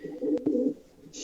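A small-to-medium hen pigeon gives a short, low coo while being handled up close, ending in a faint brief noise.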